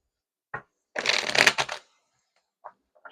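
A tarot card deck being shuffled by hand: a brief riffle, then a longer dense papery burst of cards, and a couple of small taps afterward, close and clear with no talking.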